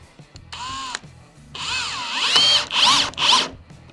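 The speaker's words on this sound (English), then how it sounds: "get this drilled into the top." A cordless power drill drives a wood screw into the top of a wooden fence board, sounding in several loud whirring bursts that rise and fall in pitch with brief pauses between them.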